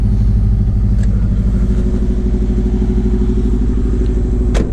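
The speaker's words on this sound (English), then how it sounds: "A little startup for the Subaru" A right-hand drive Subaru with 183,000 kilometers starts up and settles into a loud, close idle, a steady pulsing engine drone with faint clatter and a sharp click near the end.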